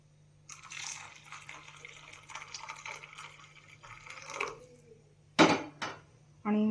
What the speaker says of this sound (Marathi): त्याच्यामध्ये जे पाणी गरम केलेलं होतं ते टाकायचं आहे